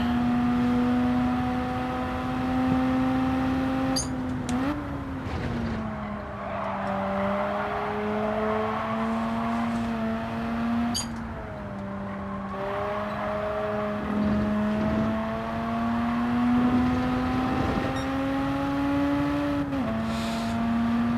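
Mazda RX-7 in the Gran Turismo 7 racing game on the Nürburgring GP circuit, its engine droning loudly and steadily at high revs, dipping and climbing through gear changes, with short shifts and tyre noise throughout.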